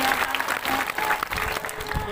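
Loud crowd applause at a tribal community rally and protest, dense steady clapping from a large gathering that fills the whole moment without pause.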